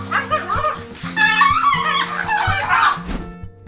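Several dogs excitedly greeting their returning owner, with close, loud yips, whimpers and high excited barks layered over a musical background, plus a thump near the end.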